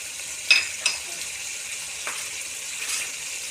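Garlic paste and fenugreek fry in a pan for a chicken keema pulao, giving a faint, steady sizzle with a few brief clinks and stirring scrapes near the start.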